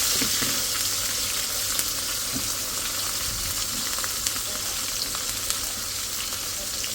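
Onions fry in fish oil in a pan with a loud, steady, close sizzle and crackle that continues without a break, with scattered small pops and no voices.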